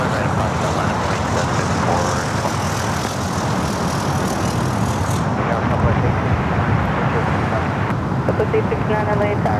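Heavy Boeing 747 rolling down runway 25 right at LAX for takeoff, a continuous loud jet roar with background traffic noise and a voice talking over it.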